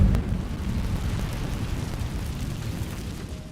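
Incendio fire spell cast in a Harry Potter video game, a roaring, rumbling burst of flame that starts loud and rolls on as a dense crackling whoosh, slowly easing over a few seconds.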